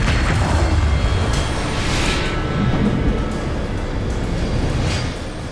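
Spell explosion from the Bombarda charm in Hogwarts Legacy, a heavy booming blast with rumbling low-end that sustains loudly throughout amid ongoing combat noise.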